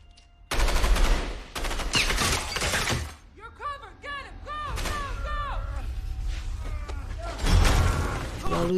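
Sniper gunfire in an action film: loud sharp shots and bursts come in clusters, mixed with harsh impacts and ringing metallic clinks, with brief dropouts between volleys.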